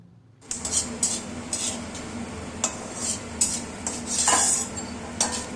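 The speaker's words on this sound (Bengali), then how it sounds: "এখানে আমি বাদামটা হালকা ব্রাউন করে ভাজবো।" Nuts being browned in ghee in a kadai for sabudana pulao, stirred with a metal spoon: repeated scraping clinks and utensil taps over a soft, steady sizzle, close and fairly loud with no talk.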